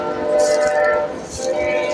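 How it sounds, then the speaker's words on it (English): A train passes by a cemetery near the lower sulphur springs at night, a steady loud rumble with sustained horn-like tones lasting throughout, fading slightly midway before swelling again. "Can't right now because of the train. The train going through"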